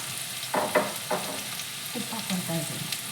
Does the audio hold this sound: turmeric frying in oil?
yes